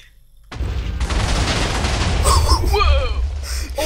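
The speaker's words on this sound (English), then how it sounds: "let's hear that explosion" A deep, rumbling blast in a modded Minecraft game goes off after a brief quiet and keeps roaring loudly, while voices cry out over the tail end.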